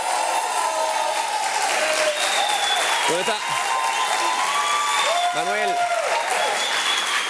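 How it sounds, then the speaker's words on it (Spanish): A TV studio audience gives steady applause for Manuel, one of the show's scriptwriters, while a man briefly calls out over the clapping. "Un aplauso para Manuel, si lo ven."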